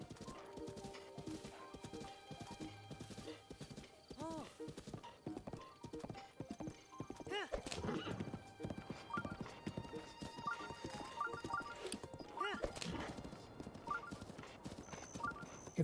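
A horse gallops in The Legend of Zelda: Breath of the Wild, with a rapid, steady clip-clop of hooves, an occasional whinny and game music and effects layered over it.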